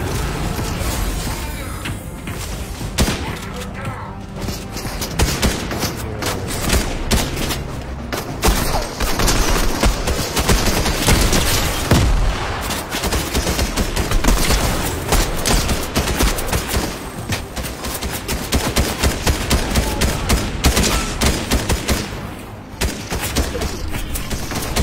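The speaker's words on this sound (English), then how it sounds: "People are shooting at us." Sustained gunfire in Fortnite: a near-continuous fusillade of overlapping shots and booms, loud and dense throughout with only brief dips, and little clear speech.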